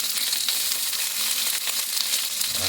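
Cauliflower, carrot, beans and green tomato frying together in a pan for vegetable dal, a steady close sizzle with faint stirring scrapes throughout.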